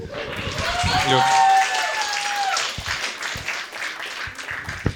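Audience applause with some cheering at a Ukrainian-language stand-up comedy show, a dense wash of clapping that swells early and then thins out as it fades over a few seconds, with a voice briefly heard at the start.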